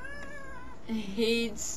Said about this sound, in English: This is my kitty